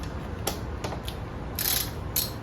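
A 10mm socket wrench ratchets while loosening long bolts on the thermostat housing of a Mercury 60 HP four-stroke outboard engine. Crisp, close clicking comes in a few separate bursts, with the longer runs late on, and no talking.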